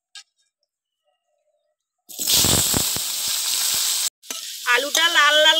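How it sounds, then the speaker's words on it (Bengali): Potatoes hit hot oil in a wok over a clay stove, giving a sudden loud sizzle that holds steady for about two seconds and then cuts off. A voice follows soon after. "কড়াইতে তেল দিয়ে গরম করে নিয়েছি। এইবার আলুগুলো ভেজে নেব।"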